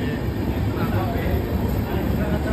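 A train pulls into a station platform with a continuous low rumble and rolling noise, heard close under a busy crowd of voices and a person speaking.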